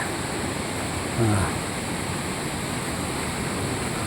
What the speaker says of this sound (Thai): นี่ก็ร่องน้ำไหลมาก็จะไหลตามนี่